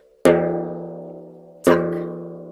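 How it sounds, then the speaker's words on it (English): Two separate rim strokes, called tak, struck on a hand drum, each a sharp crisp attack followed by a long ringing decay, close and alone. "We want to get this beautiful, this nice, beautiful rim sound."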